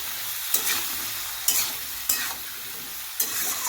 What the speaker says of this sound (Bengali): এবার আমরা আলুটাকে ভালো করে ভেজে নেব।